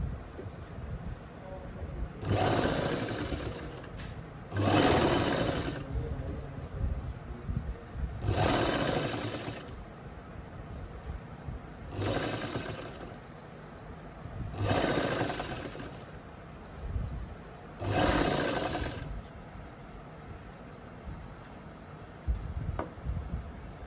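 A sewing machine stitches a buckram neckline in six separate bursts of rapid whirring, each lasting about a second or two, with quieter pauses between them and faint background sound.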